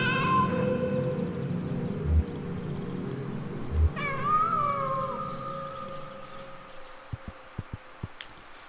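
A cat meows in the video game Kentucky Route Zero with a sustained, wavering caterwaul over a low hum, followed by a few soft taps near the end.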